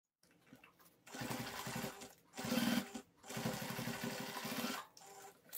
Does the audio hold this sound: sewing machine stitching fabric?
yes